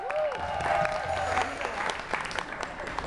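Applause from a concert audience for a singer, a busy crackle of many hands clapping for about three seconds, with some crowd murmur and a brief tonal sweep at the start.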